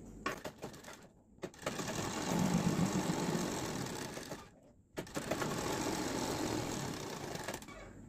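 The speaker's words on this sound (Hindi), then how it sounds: "फोल्ड करके यहाँ पर इसमें एक क्वार्टर इंच का दबाव देकर सिलाई लगा देंगे" Sewing machine stitching a folded fabric strip a quarter inch from the edge on a palazzo pant, running in two long continuous bursts separated by a brief pause, close and steady.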